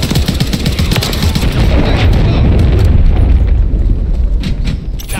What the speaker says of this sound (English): Friendly cruise missile